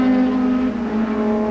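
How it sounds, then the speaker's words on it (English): A 1985 Formula Super Vee race car at Laguna Seca accelerates out of the hairpin toward the track, its engine note loud, steady and close throughout. "another car has looped going into the hairpin, but he continues on and begins to pick up speed and approach our broadcast position"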